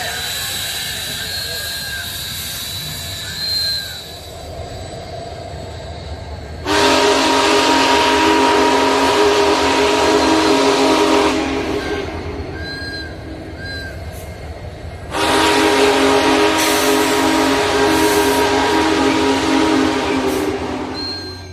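A train rumbles steadily as it arrives and comes to a stop, with two long, loud blasts of its horn or whistle over the running noise.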